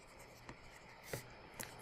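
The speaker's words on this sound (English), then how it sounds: "I'm going to scribble some notes down here" A pen scribbles notes on paper in soft, continuous scratching strokes, quiet and close, with a few sharper taps as the pen lifts and lands.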